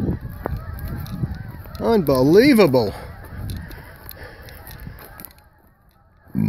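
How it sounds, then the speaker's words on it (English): A goose gives a loud, wavering series of honks close by during a goose hunt, with a person briefly speaking and rustling noise around it. "Geese are driving me crazy."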